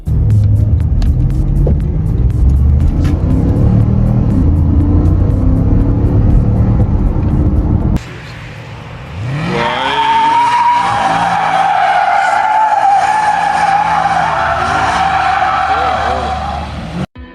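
A 2017 Porsche Panamera Turbo 971 with a 4-liter twin-turbo V8 in Need for Speed roars loudly at speed. After a brief drop, tires squeal in a long, sustained skid, and a voice talks over the engine.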